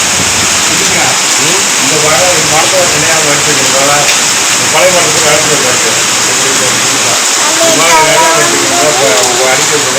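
Heavy monsoon rain pours steadily with strong wind gusting through, a dense continuous wash close by, while people talk now and then over it.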